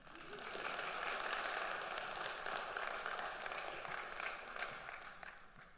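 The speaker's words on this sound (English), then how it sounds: "I think that deserves a round of applause." An audience at a Snow College convocation gives a round of applause, a broad, fairly distant wash of clapping that swells quickly, holds steady, then eases off slightly toward the end.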